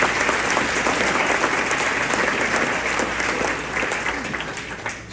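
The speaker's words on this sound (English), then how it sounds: "A round of applause for our silver sponsors." A luncheon crowd applauds the silver sponsors at the 28th Annual Long Island Luncheon, sustained, dense clapping from many hands in a large room, steady before slowly tapering toward the end.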